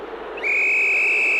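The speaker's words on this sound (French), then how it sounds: "L'arbitre souffle dans son sifflet." A referee's single sharp, steady whistle blast at a football match starts abruptly and holds its high pitch, loud and clear over a low crowd murmur.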